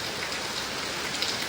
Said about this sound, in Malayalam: നല്ല മഴയും കാറ്റും ഗൈസ്.